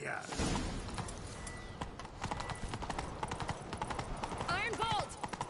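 Horse hooves clip-clop in a rapid galloping rhythm in The Witcher 3, steady and fairly close, with a short whinny near the end and voices talking over the run.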